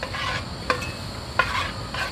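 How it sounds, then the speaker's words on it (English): Chili powder and spices frying in oil for a hot and spicy crab curry, a steady soft sizzle with two brief scrapes of a spoon stirring the pan, fairly quiet and with no voices. "After adding in all these spices, I'm just going to let it fry for a few minutes."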